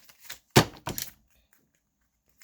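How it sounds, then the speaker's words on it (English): Tarot cards being shuffled by hand indoors, heard as two quick papery riffling bursts close by, the first louder, followed by near silence. "So let me shuffle these cards real quickly."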